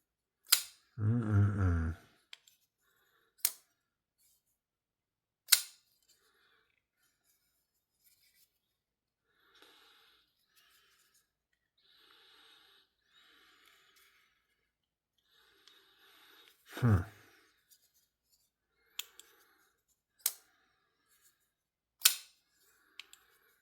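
A WEPE WP717 pocket knife flips open and snaps shut on its flipper tab, making a series of crisp, close-up metallic clicks at irregular intervals with quiet handling noise between them.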